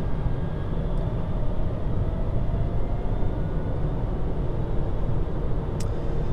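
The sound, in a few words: four-cylinder Dodge Caliber car engine while driving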